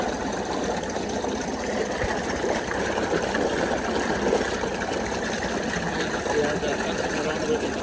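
Tohatsu 8 HP outboard motor running in gear, a steady buzzing drone with a rapid mechanical rattle and water noise, continuous and close.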